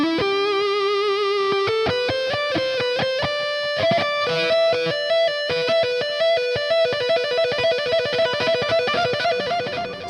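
An electric guitar plays sustained lead lines through an EVH 5150iii EL34 amp on the blue channel, with distorted held notes gliding upward, then a faster run of picked notes, loud and alone.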